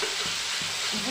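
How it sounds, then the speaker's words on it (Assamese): Tomatoes fry in oil in a wok for chole, giving a steady, close hiss of sizzling with a few soft scrapes from stirring. "এয়া দেখিছেনে কেৰাহীৰ ছাইডত তেল ওলাই আহিছে, মানে বিলাহীখিনি ফ্ৰাই হৈ গৈছে"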